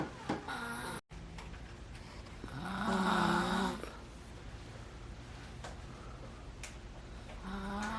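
A dog named Colby snores indoors beside a road bike unboxing, with one long, loud rasping breath rising out of quieter breathing and small ticking sounds.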